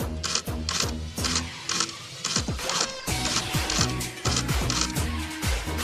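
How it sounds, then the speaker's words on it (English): A rotary switch lifetime test rig turns switches inside a carousel unit, giving repeated mechanical whirring strokes and ratcheting clicks in a steady, regular rhythm, close and continuous. "The switches are rotated a high number of times inside the carousel unit to simulate long-term"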